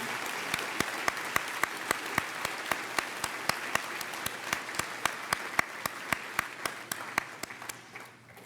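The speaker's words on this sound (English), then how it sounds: "Let's please give them all a big round of applause for their hard work" A graduation audience applauds teachers with a crowd of steady clapping, while one sharp, rhythmic near clap rings out close by in an even beat above the wash of applause that tapers off at the end.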